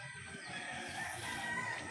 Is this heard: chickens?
yes